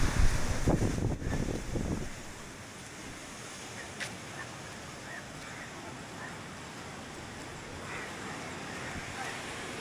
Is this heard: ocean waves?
yes